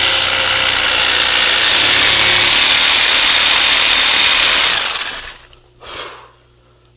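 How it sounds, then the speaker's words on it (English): A jigsaw cuts through a hard silk tree trunk outdoors, a loud, continuous buzzing whine that runs for about five seconds, then stops abruptly, followed by a short faint noise and quiet. "That's not a skill saw, it's a jigsaw."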